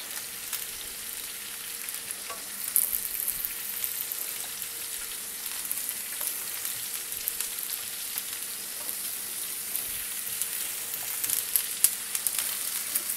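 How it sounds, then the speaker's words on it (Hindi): Onions crackle on a hot oiled grill, a continuous close, bright hiss with tiny popping spatters scattered throughout, no voices over it. "और ग्रिल को मैंने गरम कर लिया। इसके ऊपर हम इस तरह प्याज डाल देंगे।"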